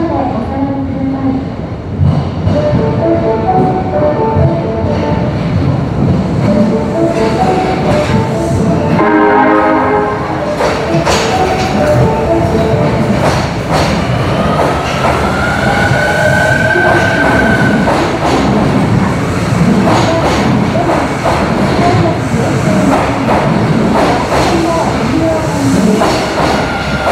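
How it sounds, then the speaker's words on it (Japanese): A yellow train rumbles into Platform 1 at an Osaka Metro underground station and slows, wheels squealing and clattering over the rails, loud and close, with a Japanese platform announcement and tones in the background. "1番線に学生前の黄色の電車が到着します。"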